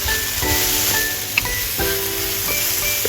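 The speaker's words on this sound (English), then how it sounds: "Continue stir frying to blend the aromas." Carrots and king oyster mushrooms stir-fried in cooking oil, giving a steady sizzle broken by a few scrapes and clinks of the utensil against the pan, heard up close.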